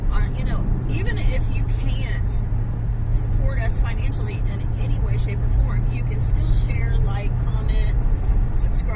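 A car passes on the road outside a moving vehicle, heard as a steady, loud road and engine rumble with a low hum throughout, plus some rustling noise mixed in.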